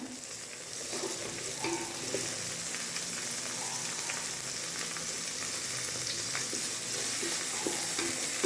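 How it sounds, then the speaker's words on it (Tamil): Tomatoes and salt sauté in a rice cooker with a constant, even sizzle that fills the whole stretch, heard up close, with faint stirring noises now and then. "நமக்கு வந்து நல்லா வதங்க ஆரம்பிச்சிருச்சு இப்போ வந்து இதில் தக்காளி போட்டுக்கலாம்"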